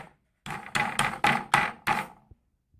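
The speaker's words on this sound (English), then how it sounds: "We just want to get our hammer and just lightly." A hammer lightly taps a component into place during a PC build, six evenly spaced sharp knocks in quick succession, close and clear, with no talk over them.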